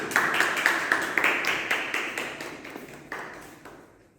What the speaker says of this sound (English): with a huge round of applause, I welcome Mr. Ansh on the stage